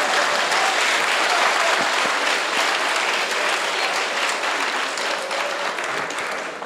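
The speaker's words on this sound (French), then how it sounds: "Les applaudissements sont trop mous pour ce qu'ils ont fait et qu'ils nous ont montré." A crowd claps at a ceremony launching a national education identifier platform, producing a strong, even wash of applause that continues unbroken from start to finish and fades slightly toward the close.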